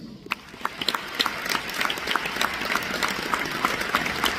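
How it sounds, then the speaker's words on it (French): A seated audience applauds a guest with steady, moderately loud clapping, individual sharp hand claps standing out from the continuous patter throughout. "Et pour cela, il mérite nos applaudissements."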